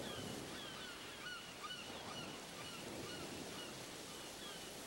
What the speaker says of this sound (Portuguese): enormes colônias de pássaros costeiros têm fácil acesso ao mar